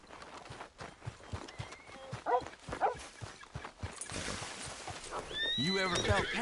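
A horse in Red Dead Redemption II gives several loud whinnies toward the end, following clip-clopping hooves, with game characters talking earlier in the clip.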